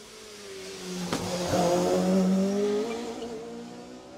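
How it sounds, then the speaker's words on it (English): A rally car on a fast stretch of road at the Jersey Rally closes in and sweeps past, its engine rising to a loud revving peak with a sharp gear-change crackle before fading away into the distance. "Next car is approaching. This is a really fast bit of road we're on."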